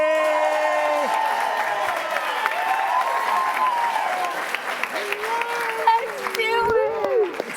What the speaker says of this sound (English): Just keep clapping, because here comes Marisa Ramirez.